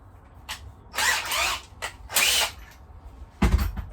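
A power drill boring a pilot hole on a boat, in several short whirring bursts separated by pauses, loud and close, the last burst ending in a deeper grinding push.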